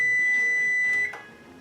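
A kitchen timer beeping in a home kitchen during cooking, a steady high electronic tone that holds for about a second and then cuts off, leaving faint room noise.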